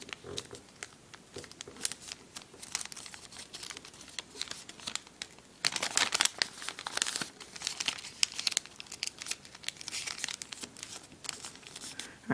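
Paper being folded into an origami swan crinkles and rustles close up in steady bursts, growing louder and busier midway, with brief creases and crumples throughout.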